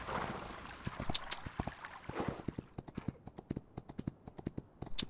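Horse galloping in the riding video game Star Equestrian, with steady rhythmic hoofbeats close and clear, the pace quickening toward the end.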